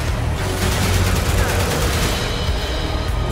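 Pistol gunfire in the zombie shooter Zombie Army 4, a dense stream of loud shots and booms packed together over steady game noise, with no clear gaps between reports.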